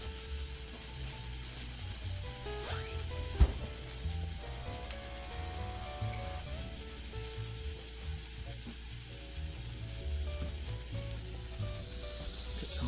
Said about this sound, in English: put the panini press down, and it's heating up the turkey and cheese